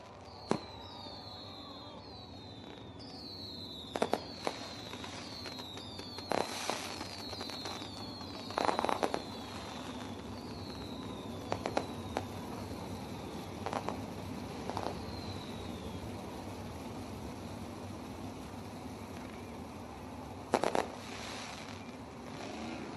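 Fireworks pop and bang at irregular intervals against an outdoor backdrop at a sprint car speedway, with birds chirping repeatedly in the background.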